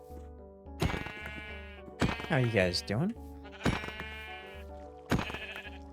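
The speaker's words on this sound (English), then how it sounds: "we got some sheep over here for a bed" Sheep in the video game Minecraft bleat several times, with repeated wavering cries close by, while someone talks casually over them.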